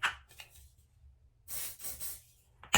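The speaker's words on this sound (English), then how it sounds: "I'm going to take a little bit of the hairspray" Short bursts of hairspray hiss onto a brush, a couple of quick puffs followed by a longer spray, close up with quiet gaps between.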